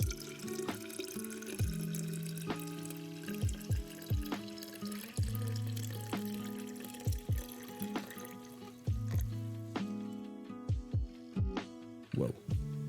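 Water poured against a wall, a run of irregular splashes and drips, fairly close, with brief pauses between pours.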